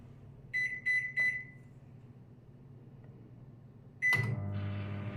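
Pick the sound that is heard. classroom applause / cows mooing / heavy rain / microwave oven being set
microwave oven being set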